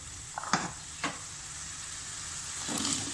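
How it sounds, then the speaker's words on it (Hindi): Potatoes tipped into a hot pan of cooked peas for aloo gobi matar sabzi: a few soft clattering drops, then a steady hissing sizzle that swells slightly near the end. "अब मैं इसके अंदर आलू डाल दूंगी"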